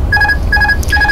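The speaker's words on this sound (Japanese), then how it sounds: "これがオートパイロット切った時の音ですね。" The autopilot disconnect warning in an Airbus A320 in X-Plane 11 flight simulator: a repeating electronic two-tone chime pulses three times in quick succession over a low engine rumble.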